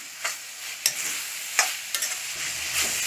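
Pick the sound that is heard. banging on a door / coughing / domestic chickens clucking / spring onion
spring onion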